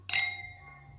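Beer glasses, poured with nectarine lambic, clink once in a toast, a bright ringing chime that fades slowly over a quiet room.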